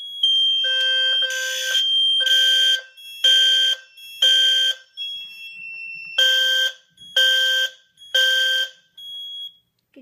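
A fire alarm system sounds loud, harsh pulsed buzzer blasts in a regular rhythm, about eight bursts with short pauses and a brief lull midway, close by during a smoke detector test.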